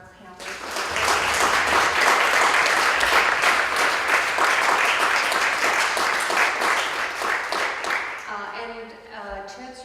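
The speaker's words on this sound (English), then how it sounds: "I'm gonna ask again that we applaud our panelists." Panel discussion audience applauding its art and advocacy panelists: sustained loud crowd clapping swelling quickly, holding for several seconds, then fading out with a few scattered claps and faint murmuring at the end.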